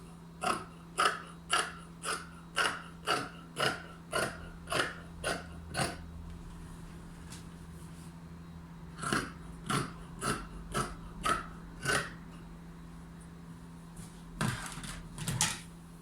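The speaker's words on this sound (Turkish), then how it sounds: "Yandan da bir santim hafiften overlock'ta dikeceğim için payını vererek kesiyorum." Scissors cutting trouser fabric, a run of about ten evenly spaced crisp snips, then a pause, then a shorter series of cuts and a final cluster, close and moderately quiet with no talk.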